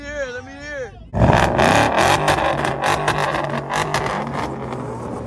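A voice speaks briefly, then a straight-piped 345 Hemi car engine roars loudly to life and revs repeatedly in rough, throaty bursts, close by.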